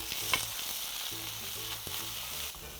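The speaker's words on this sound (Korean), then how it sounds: "이때 저희가 오일을 살짝 두르고 볶아 보도록 할게요." Blanched spinach stir-frying in a little oil in a pan for mushroom japchae, a continuous close sizzle with spatula tossing and one brief clink, with no voices.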